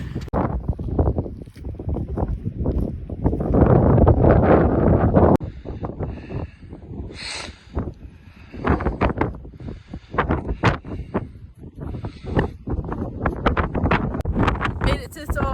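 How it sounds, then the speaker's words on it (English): Gusty wind buffets and roars across the microphone on a snowy mountain top on Goat Fell, Arran, with bursts of rustling and a voice talking briefly through the blustery noise. "it's snowy and really windy"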